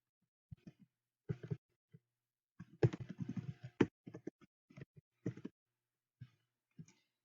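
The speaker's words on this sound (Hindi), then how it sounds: "यहाँ से मैंने डिस्कवर मोड को टाइप कर दिया है।" Someone types on a computer keyboard in short bursts of quiet, close clicks, with a busier flurry of keystrokes in the middle and pauses between bursts.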